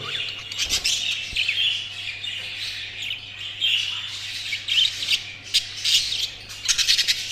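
Paired breeding birds squawk and chirp repeatedly from a nearby cage, the harsh calls bursting in irregular clusters over a steady low hum, with no talking.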